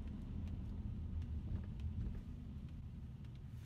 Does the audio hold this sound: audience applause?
no